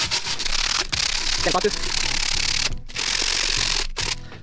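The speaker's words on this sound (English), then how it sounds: "I'm gonna get some sandpaper, some rough sandpaper, and just sand the top" Rough sandpaper rasps against an old fishing rod holder on a half cabin boat under restoration, giving steady scratchy rubbing strokes with a few brief pauses.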